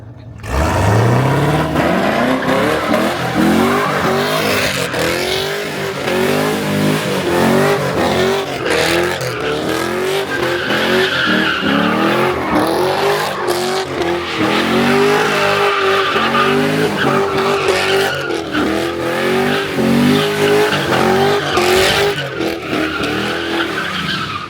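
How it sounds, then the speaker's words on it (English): A CTSV and a G8 spin donuts, with loud continuous tire squeal and skidding over a revving engine that rises and falls steadily for the whole stretch, close by and dominant. "And he started doing donuts, bro."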